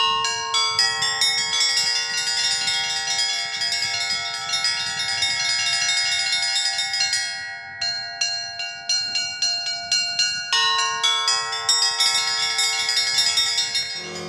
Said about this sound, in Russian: Вот, например, как звучит водосвятный перезвон.